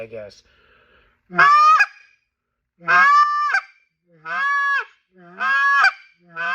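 A goose call blown without a tongue snap gives four loud, close honks in a slow, even rhythm, each one blurred and less crisp, with a brief spoken word at the start.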